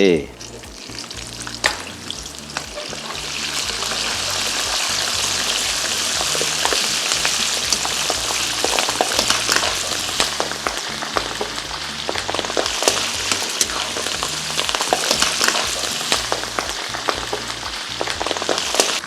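Long beans hit hot oil with fermented soybeans, cooked garlic and chili, sizzling loudly and continuously as they are stir-fried, with scattered crackles and no talking.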